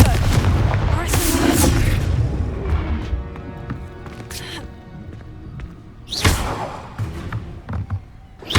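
Explosion effect from the Confringo spell in a fantasy film scene, heavy booming blasts and thuds with debris, a loud burst early and another later, mixed with a shouting voice.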